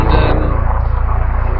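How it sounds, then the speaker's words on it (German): A helicopter passes over an island carp-fishing spot, its low rotor and engine rumble filling the short stretch as a steady, close drone. "fliegt hier schon wieder ein Heli vorbei."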